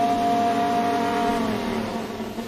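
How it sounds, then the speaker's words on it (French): A Ferrari engine revving during a staged warm-up procedure, a loud steady high-pitched drone holding at a raised pitch through the whole moment with no voices over it. "c'est les premiers à avoir fait vrombir le moteur"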